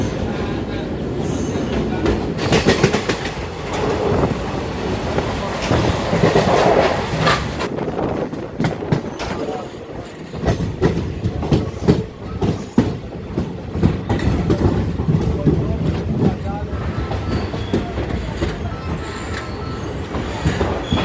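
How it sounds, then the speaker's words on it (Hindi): Passenger train running on rails toward Baitalpur, a steady loud rumble with rhythmic wheel clatter and occasional squeals throughout, heard alone without talk. "यहां से अब हमारी ट्रेन बैतालपुर के लिए निकलने वाली है"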